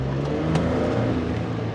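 A 2025 Ford F-150 XL pickup with the 2.7 liter engine and FX4 package accelerates, giving a brief, steady low engine drone heard from inside the cab, loud and continuous.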